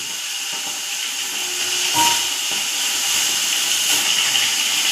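A fish head frying in hot oil gives a steady, close, loud hiss, broken by two sharp spattering pops about two seconds apart.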